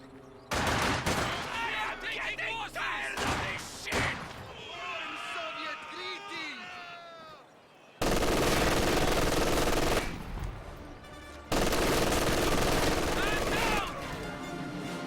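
Video game gunfire including a sniper shot: sharp bursts of shots and loud impact-like cracks in bursts, mixed with game effects, with some voices underneath.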